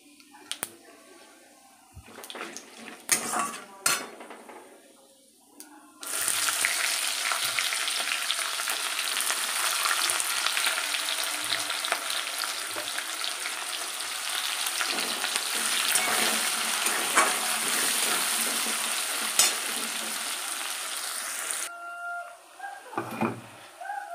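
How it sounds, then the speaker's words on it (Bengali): Onions dropped into hot oil burst into a loud, steady sizzle after a few seconds of quieter clatter, frying continuously for about fifteen seconds before dying back to small kitchen clinks. "দেখো পেঁয়াজ ভাজা হয়ে গেছে"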